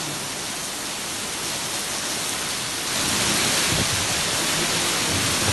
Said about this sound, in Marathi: नागपूर शहराला देखील अवकाळी पावसाने झोडपून काढलंय.